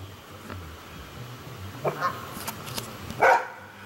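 A couple of sharp barks ring out at moderate distance over faint outdoor background noise, with a pause between them, as the dog barks at geese and loons.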